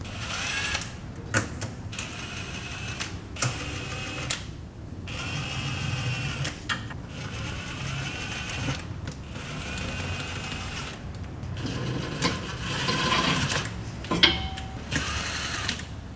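Bolts go by hand into the plastic transmission pan of a Porsche 981 Cayman/Boxster S, making a close, quiet series of short clicks and ratcheting rattles separated by brief pauses.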